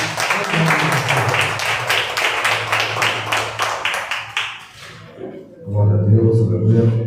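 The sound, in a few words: church congregation applauding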